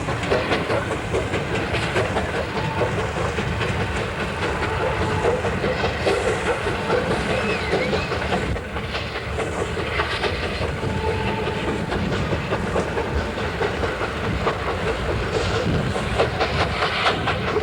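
The Broadway Limited passenger train speeds past in a steady, loud rush of rolling wheels and wagon clatter with rhythmic clickety-clack. The sound stays close and continuous throughout, with only a brief dip partway.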